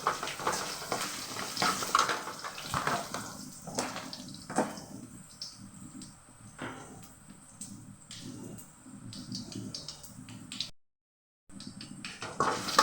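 Urad dal frying to brown in oil for valakkai puttu, a steady crackling, bubbling sizzle with occasional stirring clatter, close and without talk, briefly dropping to silence near the end.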